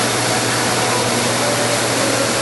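A pre-owned American 21.5 x 102 inch lathe running at 780 RPM gives a steady, continuous broadband whir with a low electrical hum underneath, unchanging throughout.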